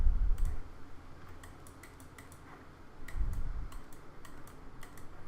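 Keys are pressed on a computer keyboard during photo editing. A series of light, close clicks comes in small irregular clusters, quiet and with no talking.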